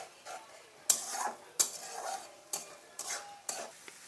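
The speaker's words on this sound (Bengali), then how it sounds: "এখন মশলাটা আর একটু ভালো করে কষিয়ে নেব।" Spice paste for a spicy Bengali chicken tangri curry is stirred in a pan, with a quiet spoon scraping and several sharp taps of the utensil against the metal, over a faint sizzle and no talk.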